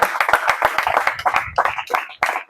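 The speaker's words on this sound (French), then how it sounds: "Acclamons la parole du Seigneur." A church congregation applauding at a Sunday service, with a burst of brisk, fairly close clapping from many hands that thins out toward the end, mixed with a few voices.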